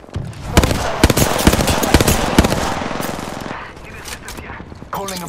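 Dense rapid gunfire from Apex Legends, loud and close, with bursts of automatic shots running for several seconds before easing off, while a character voice calls out over it.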